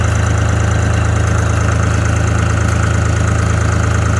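An engine idles steadily after being cranked over with a portable jump pack, a loud, even, continuous rumble with a regular low pulse and no voices.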